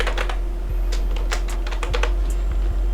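Someone types a password on a computer keyboard: quick, irregular clicking keystrokes in close, clear bursts over a steady low hum, with no talking.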